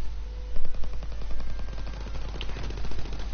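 Semi-automatic sniper rifle fire in a World War II video game: a fast series of sharp, close shots repeats steadily throughout, over a constant low rumble, with no speech.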